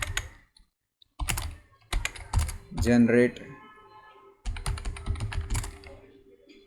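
Computer keyboard typing a terminal command while setting up an Angular chat app service, short bursts of key clicks mixed in with a man's speech, close and clear.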